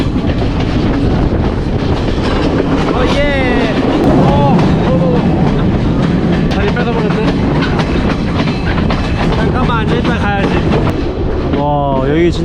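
A train in Sri Lanka rolls into a station with a loud, constant rumble and rattling carriages, while metallic wheel squeals rise at intervals. People talk under the noise.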